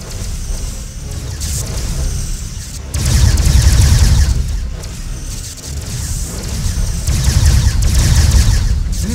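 Star Trek Bridge Commander ship weapons fire pulsing in loud swells over a constant low rumble, with repeated surges of blasts and impacts, no voices.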